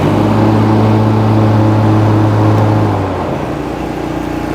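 A John Deere Z700 zero turn mower runs loud and close at full throttle with its blades engaged, a steady droning engine roar that eases down slightly toward the end, with no talking over it.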